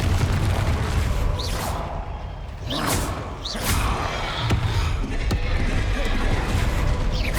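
Explosive spell blasts in Hogwarts Legacy, several heavy booms and crashing impacts spread irregularly through the clip amid combat sounds, with whooshing casts between them.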